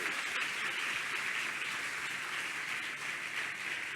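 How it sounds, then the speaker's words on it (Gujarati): Schoolchildren applaud a guest being honoured with a memento at a school function: steady, dense clapping from a crowd, sustained and loud throughout with no pauses or talk. "સૌ બાળકો જોરદાર તાળીઓના નાદથી સાહેબને જે સ્મૃતિ ભેટ અર્પણ થાય છે જોરદાર તાળીઓથી સાહેબની ભાવનાને વધાવીશું"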